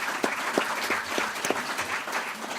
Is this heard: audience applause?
yes